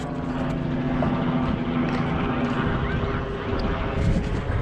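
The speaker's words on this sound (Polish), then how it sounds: "helikopter nade mną" A helicopter flying overhead makes a continuous rotor drone in the background, steady and moderately loud, with a voice speaking over it at times.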